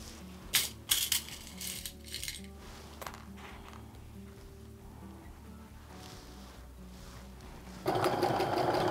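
Sewing machine stitching a quilt seam on a Maple Leaf Log Cabin fall quilt, a steady mechanical whir with a few sharp clicks early on and a louder burst of stitching near the end.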